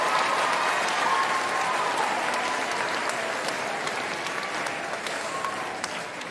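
Audience applause after a school house music performance by a cellist and a violinist, steady dense clapping from a sizeable crowd that fills the whole stretch and tapers slightly toward the end.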